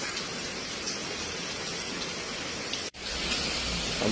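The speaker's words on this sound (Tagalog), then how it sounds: "Dahil umuulan." Rain falls during cool, stormy weather as a constant broadband wash of water, briefly cut by a sharp dropout near the end before resuming at the same steady level.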